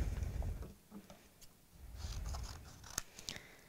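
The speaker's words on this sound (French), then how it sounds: "Alors, on découpe l'extérieur." Scissors cut along the outline of a paper rabbit ear for an Easter craft, making a few quiet, close snips and paper rustles.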